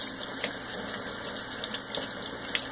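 Steady running tap water while fresh eggs are peeled under the stream, a continuous close hiss of water splashing into a sink without pauses.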